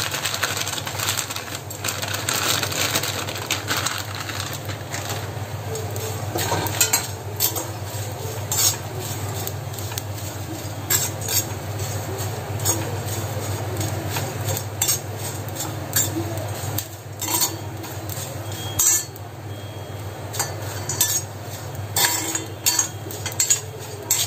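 A spoon scrapes and clinks steadily against a pan as Malvani masala spices are stirred and dry-roasted, a continuous busy rattle with a constant background hum throughout.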